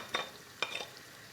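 Rize kavurma meat is added to a pot of rice pilaf, giving two short close bursts of sizzling and stirring scrapes within about a second, then quiet.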